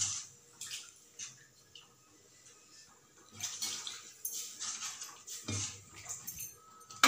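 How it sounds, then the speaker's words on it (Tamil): Water is poured into a pot of dried fish curry, a soft splashing trickle in a few bursts with light clinks of a metal vessel, heard close and fairly quiet. "இப்போ வந்து தண்ணி வந்து தேவையான அளவு சேர்த்துக்கலாம்."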